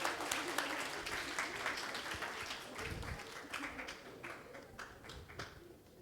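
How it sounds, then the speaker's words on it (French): A church congregation applauds during a First Communion Mass, with crisp, close clapping that is loud at first and gradually fades, alongside a few scattered voices. "Un applaudissement pour Carras."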